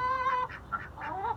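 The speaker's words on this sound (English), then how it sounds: "Oh, ducks." Backyard ducks call in a quick run of nasal quacks and honks, fairly close and moderately loud, with several overlapping birds and no talking.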